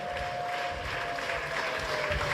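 A church congregation applauds in a dense, steady wash of clapping with faint crowd murmur, continuous and moderately loud throughout.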